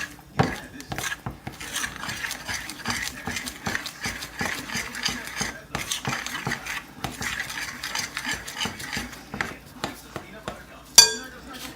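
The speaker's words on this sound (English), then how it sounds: "Get that good and stirred up in there." A spoon stirs a thick mixture for chocolate peanut butter bars in a bowl, with continuous scraping and clinking, a few pauses, and a sharper clank near the end.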